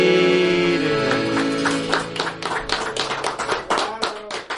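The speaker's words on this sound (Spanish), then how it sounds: "Se vale aplaudir." Audience applause at a live Mexican music show, claps building from a few scattered hands into a dense, fairly close burst that runs on over lingering instrumental tones.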